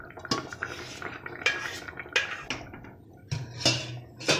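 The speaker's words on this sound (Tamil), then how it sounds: "காயெல்லாம் நல்லா வெந்த உடனே நம்ம எடுத்து வச்சுருக்க சிறுபருப்பு பருப்பை இந்த காய் கூட சேர்த்துடலாம்" Moong dal being added and mixed into cooked vegetables in a pot for sambar, heard as several sharp metallic clinks and spoon scrapes against the vessel, close and irregular.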